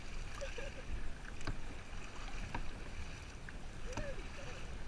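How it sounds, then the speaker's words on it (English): Kayak paddling near the Channel Islands, with soft, rhythmic water splashes and drips from the paddle strokes over a steady wash of water and light wind, close to the microphone. "I'm paddling."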